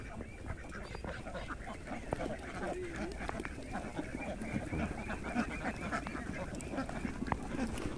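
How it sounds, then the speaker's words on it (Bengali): Ducks on a duck farm in the middle of a wetland, with many ducklings and grown ducks fed paddy, quacking and honking in a continuous busy chorus at moderate distance, with faint voices underneath. "এই যে হাঁসের খামার হয়ে গেছে, নিচে অনেক ছোট ছোট হাঁস আছে"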